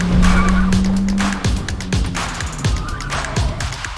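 A car runs a dynamic slalom on Goodyear Eagle F1 Asymmetric 6 tyres, with loud engine revs and repeated short tyre squeals and scrubs as it swings left and right through the cones.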